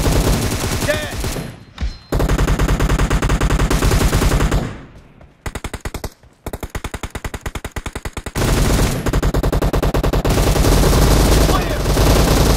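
Automatic M762 rifle fire in PUBG Mobile, loud rapid bursts of shots in long sustained strings broken by short gaps, with a brief spoken game callout.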